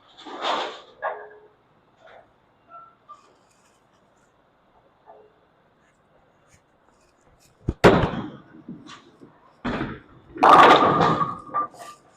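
Motiv Ghost bowling ball thrown on a fresh league oil pattern, rolling down the lane before crashing into the pins with a loud burst of clatter and scattering, followed by further pin rattles.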